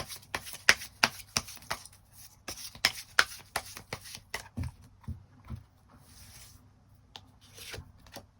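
Tarot cards are shuffled and drawn by hand, making soft irregular taps, slides and rubs close by, with brief pauses between bursts and no talking.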